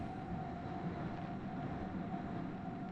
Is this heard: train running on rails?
yes